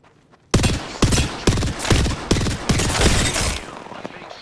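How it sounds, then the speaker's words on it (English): Rapid bursts of gunfire in the Apex Legends video game, a sharp opening shot then a dense run of loud, close automatic fire with repeated cracks and short gaps, no talk over it. "I'm being shot at."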